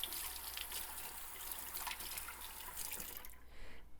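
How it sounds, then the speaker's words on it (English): Tap water runs steadily over disassembled parts being rinsed in a sink, a continuous hiss of flowing water that cuts off near the end, with no talking. "We're just gonna rinse that."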